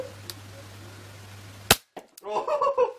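A toy gun fires a single sharp, loud crack, and a voice follows moments later, heard after a quiet background hum.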